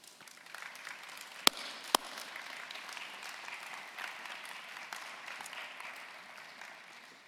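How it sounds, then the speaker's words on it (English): A room at a closing ceremony in Glasgow fills with steady, moderately distant applause from an audience, continuous throughout with two sharp louder claps near the start. "we should give you a round of applause for all the work that you've done"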